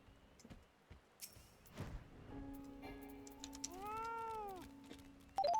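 A single drawn-out meow from a cat in the online game Final Fantasy XIV sounds faintly amid quiet ambience, preceded by a few soft clicks and ticks.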